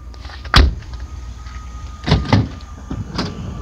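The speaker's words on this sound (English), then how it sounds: "Power sliding doors." A power sliding door on a 2015 Honda Odyssey Touring minivan whirs and thuds shut, with a few mechanical clunks and latch sounds spread across a few seconds, close by.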